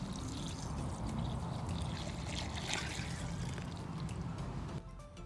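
Rainwater pours steadily into a garden bucket, giving a continuous close splashing and trickling wash that cuts off near the end.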